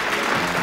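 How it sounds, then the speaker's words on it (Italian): A theatre audience at a musical comedy breaks into a brief burst of dense clapping, close and steady, with no pause. "un po' d'applausi, via, un po' di applausi"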